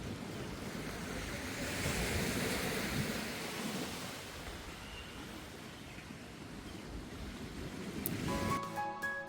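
Sea waves wash ashore at Radhanagar Beach on Havelock Island as a continuous broad surf roar with wind, swelling and easing, ending in a brief burst of handling noise.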